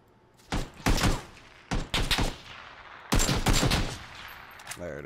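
Bursts of gunfire from a PUBG match ring out in three clusters of sharp rapid shots, fairly loud and close, with a brief pause between each group and no talking over them.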